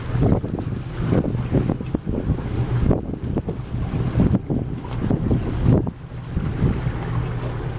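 A DeFever 44 motor cruiser under way near Fort Pierce, Florida, with heavy wind buffeting the microphone over a low engine rumble and the wash of water, steady and loud throughout.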